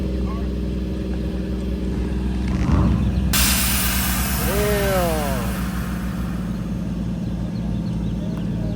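A car engine revs at a Japanese vintage car club's cars and coffee meet in Arizona, a sudden loud roar that rises in pitch and then holds, nearby, with people talking over it.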